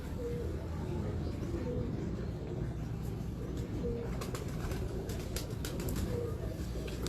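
Pigeons kept by a bird breeder coo repeatedly in soft, low, rhythmic calls close by, over a steady background rumble with faint voices.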